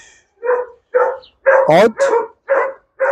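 A Malinois dog named Rex barks in a quick series of six sharp, close barks with short gaps, and a man gives a brief command between them.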